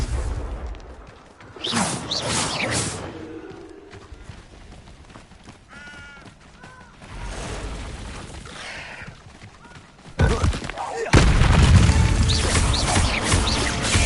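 Confringo blasting spells cast in Hogwarts Legacy: whooshing magical bursts and crashes come in separate waves, with a loud, dense burst near the end.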